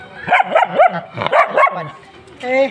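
A dog barks in a quick run of short, yappy barks, pauses, barks again, then ends with a higher whining yelp.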